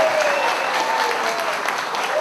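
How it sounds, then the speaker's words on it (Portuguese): A crowd at a political event for construction workers breaks into dense, continuous clapping, loud and even across the whole moment, without pauses. "Eu quero uma salva de palmas, gente."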